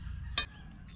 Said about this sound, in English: All the roosters are talking to each other.